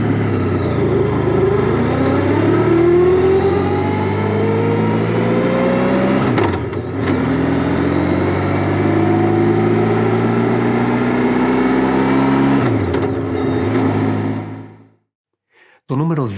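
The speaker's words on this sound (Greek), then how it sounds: "νούμερο 1 πλεονέκτημα είναι ο ήχος του VFR κινητήρα" Honda VFR 1200X Crosstourer four-cylinder motorcycle engine runs loud and close, its pitch climbing in repeated revs with brief dips around six and thirteen seconds before cutting off near the end.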